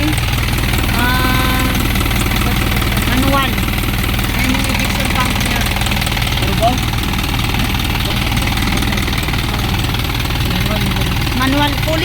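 An Isuzu Elf truck's 4HG1 manual diesel engine runs at a steady, close idle with a continuous rattling clatter, while someone talks over it the whole time.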